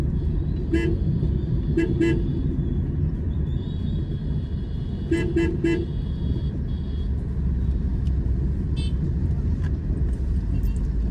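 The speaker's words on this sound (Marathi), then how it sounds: "कधीपासून हॉर्न देतोय" A car horn honks on the Malshej Ghat road in short repeated toots, a pair of beeps followed by a quick burst of three, over a constant low rumble of vehicle and road noise.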